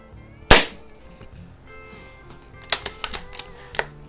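A single sharp, loud crack from a Walther LGR air rifle fired at a paper target during sporting rifle league practice, followed by softer clicks and handling noises as the rifle is reloaded.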